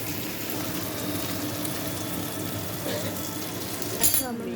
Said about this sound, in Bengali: আমার মা এখন ভেজিটেবিলগুলো দিয়ে দিল, ভালো করে কষা করে দিল, নেড়ে দিলাম।